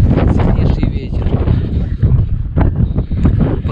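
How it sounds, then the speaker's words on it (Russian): Strong, gusty wind roars across the open Chernobyl exclusion zone near a wildfire, a loud continuous rush buffeting the microphone with surging gusts throughout. "И слышите, какой сильнейший ветер."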